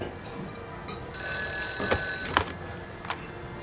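A telephone rings with a steady electronic bell tone that starts partway through over a low background hum, with a few faint clicks and bumps mixed in.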